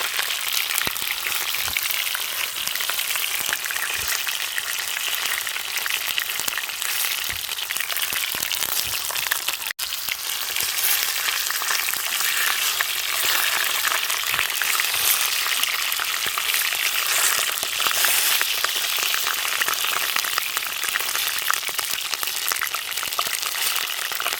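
Sweet peppers fry in a pan with a dense, continuous sizzle and crackle that stays loud and steady throughout, with no voices.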